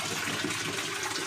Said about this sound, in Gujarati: તે માટે આપણે પહેલાં કરી દઈએ નળ ચાલુ અને પછી ભરી લઈ ડોલ